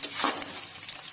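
Onions sizzle in a pan with cabbage and potato, a brief close crackling hiss with a sharper scrape at the start.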